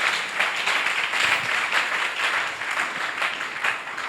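A church congregation breaks into sustained applause, dense overlapping clapping that stays steady for several seconds.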